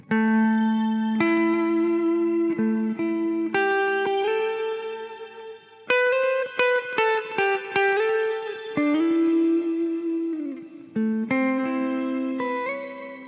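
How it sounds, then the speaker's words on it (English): Clean electric guitar notes through a Mooer GE200 Plus Li multi-effects unit ringing out one after another, each swelling into a bright shimmer reverb tail with sustained high harmonics. "Nice shimmer clean. It's got that nice shimmer reverb."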